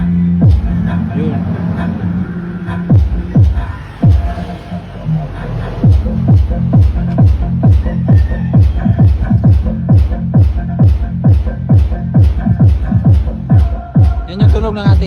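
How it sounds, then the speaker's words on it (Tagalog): A new MCV D15 loaded 2 kW subwoofer speaker pumps out deep, rapid bass thumps in a steady driving rhythm, loud and close, after a brief stretch of softer sound. "Yan ang tunog ng ating sub mga boss."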